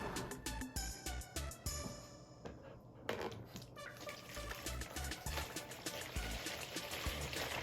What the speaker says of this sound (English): So now we're going to pour the distilled water in the container.